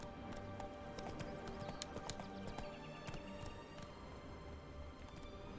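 Horse hooves clip-clop at a steady gallop in a fantasy role-playing video game, a continuous rhythmic thudding with a brief whinny, mixed over game ambience with no talking.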